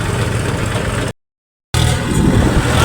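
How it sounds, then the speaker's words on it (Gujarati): A loud engine rumbles steadily, cuts out briefly, then resumes running with a heavy low drone. "મિત્રો આ ટ્રેક્ટર તો બહુ અવાજ કરે હો."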